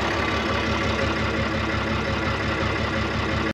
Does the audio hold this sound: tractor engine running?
yes